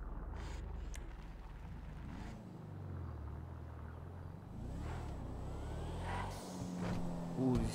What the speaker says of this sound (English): The sound of that turbo is beautiful.